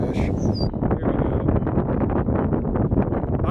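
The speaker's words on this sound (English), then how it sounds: "it's pretty windy here" Steady, dense wind buffets the microphone on a fishing dock with a low rumble, continuous and loud throughout, with no clear voices.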